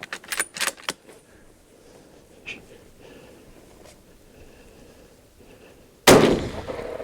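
A hunter's rifle fires at a deer on a Western hunt, one loud sharp crack near the end with a ringing tail, after quiet outdoor ambience and a few close rustling knocks at the start.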